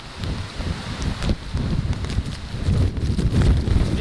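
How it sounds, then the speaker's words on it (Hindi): Strong gusts from Cyclone Nisarga sweep across Alibag, a continuous rough roar of wind buffeting the microphone with a noisy wash that could carry rain, loud and steady throughout with no voices. "तेज़ बारिश हो रही है, तेज़ हवाएं चल रही है।"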